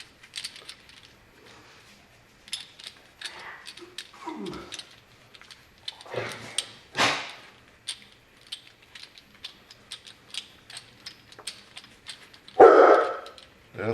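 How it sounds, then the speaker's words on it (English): A shop dog barks in a garage during an E36 M3 half shaft rebuild, giving several loud, scattered barks between sharp metallic clicks, clinks and tool rattles. "Keener and the shop dog started barking, so we paused"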